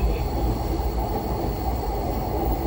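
A JR East E233 series 0-番台 Chuo Line train runs between Kanda and Ochanomizu, its steady interior rumble of wheels and motors droning continuously without speech.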